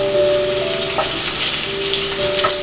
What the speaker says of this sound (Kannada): ಈಗ ಎಣ್ಣೆ ಕಾದಿದೆ, ಇದಕ್ಕೆ ಆನಿಯನ್ ಹಾಕ್ಕೊಳ್ಳೋಣ.